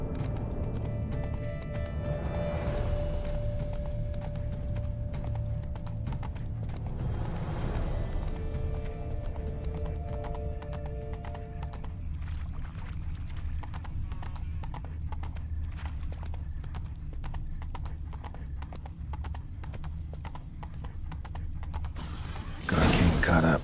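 Roach, the horse in The Witcher 3 video game, gallops along with steady, rhythmic clip-clop hoofbeats and creaking tack, and a faint whinny rises briefly partway through.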